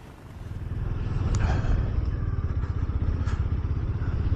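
A Honda GB350S motorcycle rides along a damp UK seafront, its single-cylinder engine giving a steady, loud, rapid low thumping throughout, with wind rush over the top and no talk.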